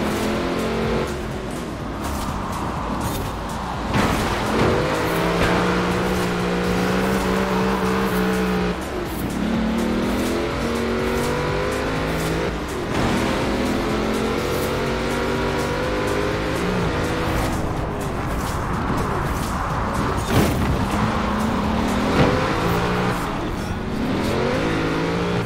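Car engine held at full throttle in the racing game Forza Horizon 4, loud steady roar with rising revs and brief dips at gear shifts, continuous for the whole stretch with no talking.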